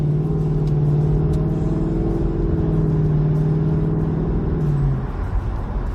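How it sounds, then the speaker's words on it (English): A Ford Mustang GT V8 engine and exhaust rumble and rev steadily from a convertible, a loud, deep, sustained drone that eases off near the end, with no talking. "A little Mustang GT sound."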